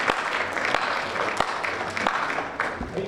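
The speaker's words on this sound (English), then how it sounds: "Yes, we can clap for that." A crowd applauds steadily for a few seconds at a candidate forum, dense clapping filling the room.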